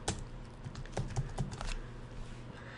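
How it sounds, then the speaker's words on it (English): A short burst of typing on a computer keyboard, with a handful of quick, close clicks in an uneven rhythm over a faint background hum. "In the description field, if I just type in laptop,"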